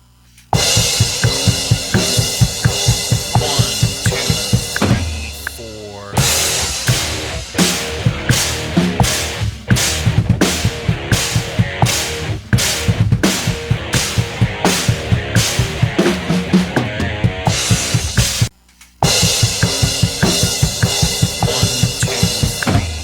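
Distorted electric rhythm guitar plays a shred-style metal riff slowly, with chugging palm-muted notes, bends and releases on the second string, and a brief gap midway before the pattern resumes, loud and close with no talking.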